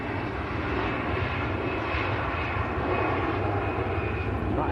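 An EasyJet Airbus A320 rolls down the runway at Manchester Airport on takeoff for Geneva, a continuous loud jet engine roar heard from a distance, steady throughout.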